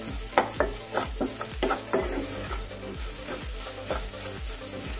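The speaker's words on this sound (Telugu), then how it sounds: "అలాగే కొద్దిగా గరం మసాలా వేసేసి 1 నిమిషం పాటు ఫ్రై చేసుకోవాలి।" Cabbage curry frying with garam masala in a pan, a spatula scraping and clanking in a quick regular rhythm over a continuous close sizzle.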